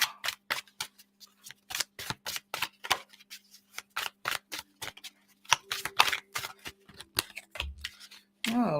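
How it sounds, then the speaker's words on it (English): Tarot cards are shuffled in a rapid series of crisp riffling snaps and slaps, a steady run of flicks up close with a faint hum beneath. "let's give this another little shuffle here"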